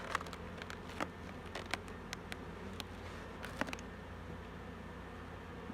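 Honeybees buzzing around a hive entrance while returning with pollen, a steady insect hum with soft ticks of bees passing close, faint and continuous with no voices.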